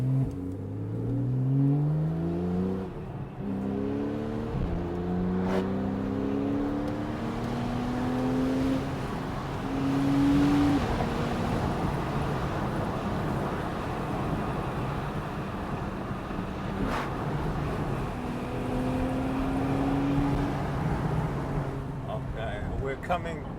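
A Porsche 911 Carrera S (991.1) accelerates hard on an open road, its engine note climbing repeatedly through the gears under steady road and wind noise, with someone talking over it.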